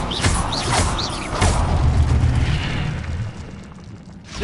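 In Hogwarts Legacy, an Incendio fire spell erupts with a booming, crackling blast of flame followed by rumbling bursts, loud and close, fading into a softer roar.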